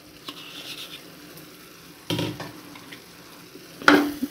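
A spoon stirs mushroom curry with fresh coriander in a hot pan, giving soft scraping strokes over a low sizzle, with two sharper clanks of utensil against metal, close up.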